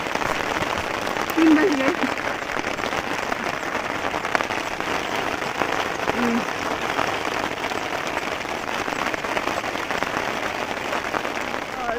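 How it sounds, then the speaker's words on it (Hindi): Sudden steady rain pours down on a surface during a Himalayan trek in Kinnaur, India, a continuous dense hiss throughout, with a few brief words spoken near the start. "ये देखिए अचानक से बारिश हो गई"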